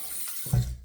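Tap water runs into a sink for a face rinse during a wet shave, a soft splash that swells halfway through and carries on steadily at close range, with no talking.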